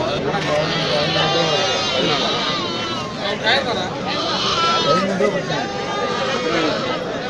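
Goats at the crowded Vallioor goat market in Tirunelveli bleat repeatedly amid busy background chatter, while someone talks over the noise nearby.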